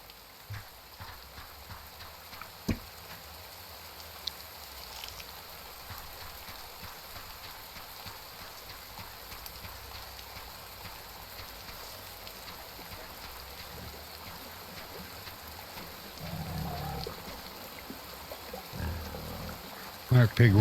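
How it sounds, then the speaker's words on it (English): Rain falls steadily in an island survival game, a soft continuous hiss with faint patter, low and even throughout, with a few louder thumps near the end. "Oh, it's starting to rain."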